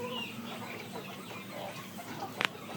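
Chickens cluck steadily through a poultry shed while the birds are given Lasota vaccine in their drinking water, with a brief sharper call near the end.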